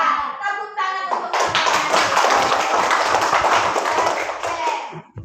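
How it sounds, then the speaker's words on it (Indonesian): A class of children applauds in a classroom: after a moment of talk, dense clapping from many small hands starts abruptly and carries on steadily for several seconds before tapering off. "Tepuk tangan untuk"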